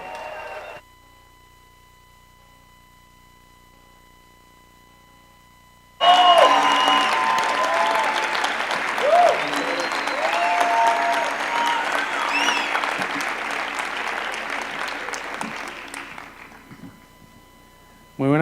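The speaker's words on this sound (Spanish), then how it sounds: "Un aplauso por favor para Rubén Blades y Carlos Chirinos." Audience applause for Rubén Blades and Carlos Chirinos at a Circulart 2019 talk in Medellín, Colombia: a quiet stretch, then a loud, dense burst of clapping from a large crowd that holds for about ten seconds before stopping abruptly.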